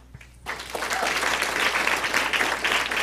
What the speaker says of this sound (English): Let's get one more round of applause for Chloe.